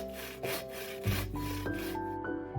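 Large wood branches being sawn in steady back-and-forth rasping strokes, close by, with some tonal ringing and clatter between strokes.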